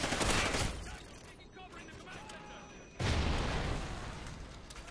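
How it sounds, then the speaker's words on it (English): Video game gunfire in bursts, a loud rattling volley at the start, quieter scattered shots, then another heavy fusillade near the end, with the player's voice faintly under it. "why is everybody shooting in the wall?"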